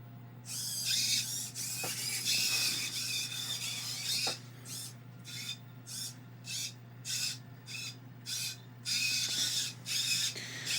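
Robot servos step through a table of programmed positions, producing repeated short whirring bursts separated by brief pauses over a steady low hum, with no talk.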